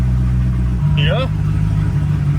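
The 7-liter LS7 V8 of a Corvette C6 Z06 runs at a deep, steady idle with a low rumbling drone, while a voice briefly exclaims over it.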